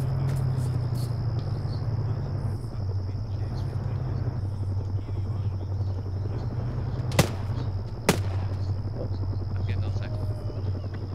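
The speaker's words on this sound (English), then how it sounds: "Shots." Two sharp gunshots from the ArmA 3 SOG video game crack out a second apart, standing out over a steady droning helicopter rotor hum and faint insect-like background noise.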